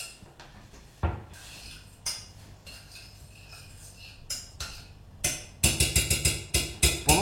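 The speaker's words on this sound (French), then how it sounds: "Je viens bien mélanger le tout et on va faire chauffer la sauce." Kitchen utensils clatter and scrape against a pot or bowl while sugar and spices are stirred into a sauce. Soft clinks come at first, then a faster run of sharp, close metallic knocks near the end.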